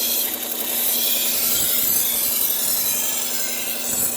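A Henckels kitchen knife being sharpened, a loud continuous rasping scrape of steel against an abrasive surface, steady and close without pause, no talking.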